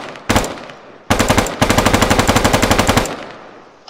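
An HK G36 assault rifle fires in a video game weapon mod: first a single loud shot, then a short burst, then a long rapid burst of full-auto fire that ends with a brief echoing tail.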